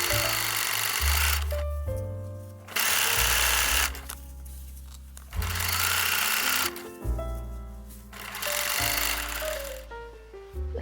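A sewing machine stitching the back side seam onto the back bodice of a 1930s-style garment: loud close runs of rapid mechanical whirring that start and stop in several bursts, with short quiet pauses between.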